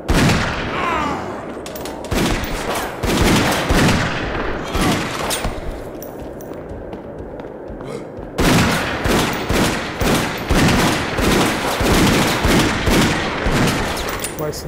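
Gunfire in the video game Dead Second comes as loud, closely spaced shots in bursts with a short lull partway through, then a renewed volley.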